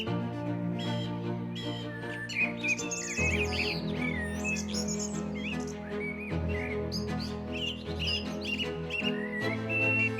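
Spring birdsong in Yosemite's meadows, with sparrows and migratory birds chirping in quick bright calls and tweets, steady and fairly close, over a soft sustained musical bed.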